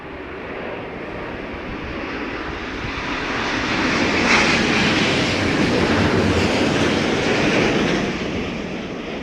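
A jet airliner lands at London Heathrow Airport during Storm Darragh, its engines a loud, steady broadband roar that swells to a peak midway and slowly eases off, heard alone with no talk.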